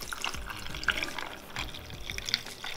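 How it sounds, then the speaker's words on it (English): Flash-chilled coffee is poured straight over ice, a short, close stream of splashing and trickling liquid with faint bright clinks of ice. "So we can just pour it straight over ice."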